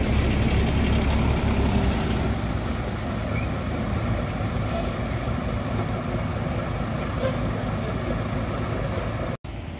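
An MPM bus, Gumarang Jaya Sembodo, idles at night as it enters the Solok bus terminal after the trip from Jakarta. A loud, steady diesel rumble runs throughout, with faint scattered background noises.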